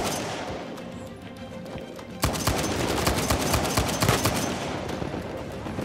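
A powerful weapon fires in the video game Uncharted 4. After a quieter start, loud rapid shots and impacts break out and continue as a dense, sustained barrage.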